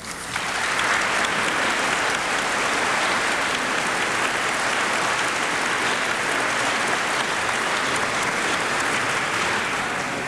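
Audience applause welcoming author V.S. Naipaul at a book reading and Q&A for Half A Life, a dense, steady roar of clapping from a large crowd that swells in after a moment and holds for the full ten seconds.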